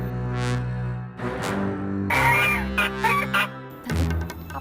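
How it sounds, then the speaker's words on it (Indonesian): Geese honk in several loud, nasal calls, some close and some a little farther off, with brief pauses between them. "Ada angsa."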